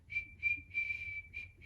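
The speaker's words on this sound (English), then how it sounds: "I'm not whistling very good, am I?" A person whistles a simple tune in short, breathy phrases, the steady pitch broken into several separate notes over a low background hum, close and clear with no talking.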